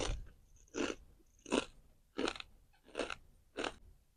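Five crisp, evenly spaced crunching bites into a gluten-free Trader Joe's snack, close to the microphone and fairly quiet, each bite a short sharp crackle with brief pauses between and no talking.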